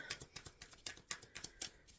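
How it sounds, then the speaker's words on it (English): Tarot cards are shuffled by hand, a quick rhythmic run of riffling flicks and soft slaps repeating evenly, close and fairly quiet. "Spirit, I'm shuffling for the Sagittarius Collective"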